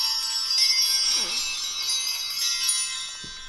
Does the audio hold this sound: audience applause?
no